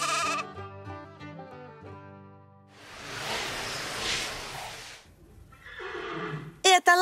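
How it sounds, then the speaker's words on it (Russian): A horse neighs in a children's cartoon about farm animals, a loud breathy whinny lasting about two seconds, coming after a short cartoon melody and followed by brighter sound effects near the end. "Это лошадка."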